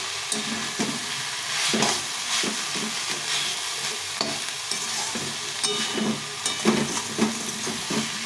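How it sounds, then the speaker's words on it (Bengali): Bete greens frying in a pan over a steady sizzle, with repeated scraping strokes of a spatula stirring them at an uneven, close-up rhythm. "এটাকে ভালো করে আস্তে আস্তে ভেজে নেব"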